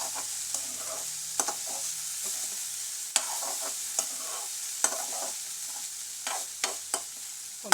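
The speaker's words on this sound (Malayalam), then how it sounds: "ഇടയ്ക്കിടയ്ക്ക് നമ്മളിതൊന്ന് ഇളക്കി കൊടുക്കണം." A pot of eggplant theeyal bubbles softly on a low flame while a spoon stirs it now and then, the gentle sizzle punctuated by close scraping strokes and no voices.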